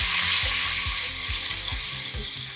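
Tamarind pulp added to chillies, curry leaves and asafoetida frying in a pan for a yam and amaranth mustard curry, giving a loud steady sizzle with a run of regular scraping stirs, no voices.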